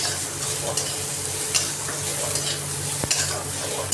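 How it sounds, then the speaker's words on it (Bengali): Bitter gourd sabji with turmeric sizzles and fries in a pan while being stirred, giving a steady close crackle with scraping stir strokes and a sharper knock near the end. "হলুদ দিয়ে নাড়াচাড়া করে আমি এতে একটু নুন দিয়ে দেবো"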